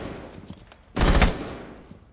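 A single loud gunshot burst with a short rumbling tail from a competitive Rainbow Six Siege match in the ESA Siege NA Rivals Series, breaking a quiet, tense moment with no talk.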